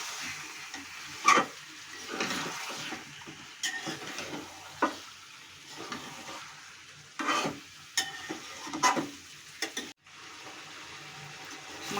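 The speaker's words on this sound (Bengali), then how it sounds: "মাংসটা খুব ভালো করে কষিয়ে এসেছে। আর একটু কষাবো।" Spiced mutton being stir-fried in a wok, a low simmering sizzle broken by repeated louder scrapes and clatters of a spatula against the pan, close and irregular, with no talking.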